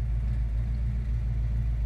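A 1968 Dodge Super Bee idles steadily with no talk, its deep low rumble holding an even, unbroken loping throb from start to finish.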